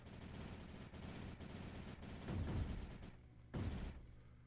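Cannons and mortars in the strategy game Creeper World 4 fire at advancing creeper as a rapid string of muffled, overlapping blasts, with two heavier booms standing out near the end.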